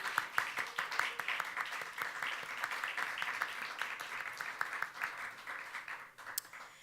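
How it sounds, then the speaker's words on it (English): Steady applause from an audience at a training session, dense overlapping claps sustained for several seconds before tapering off at the end. "Let's give them a round of applause."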